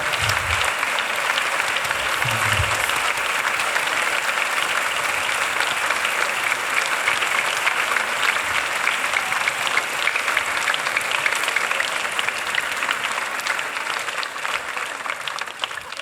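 An audience at a concert of the Mariñaencanto series by the Fundación Xesús Bal y Gay claps loudly and continuously, a dense, sustained wash of applause that fills the room without letting up.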